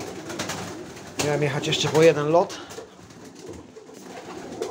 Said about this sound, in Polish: To jest ładne 200 gołębi.